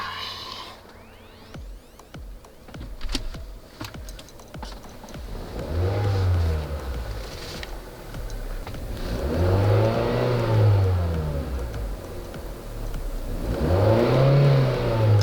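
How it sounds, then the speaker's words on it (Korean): A used Kia Soul's engine revving up and down while parked, the rising and falling engine note repeating in three smooth swells, close and steady. "RPM 오르고 내리고 확인하겠습니다"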